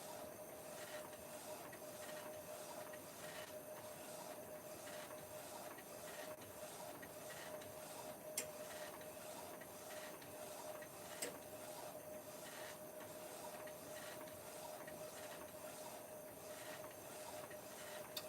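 Prestige A3+R DTF printer running steadily with a regular mechanical rhythm of carriage passes and faint ticks, a constant moderate hum with no talking.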